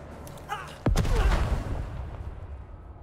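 A grenade goes off in Necromunda: Underhive Wars, with a heavy, loud blast after a short whoosh and a long rumbling tail that fades. Faint game sounds come first.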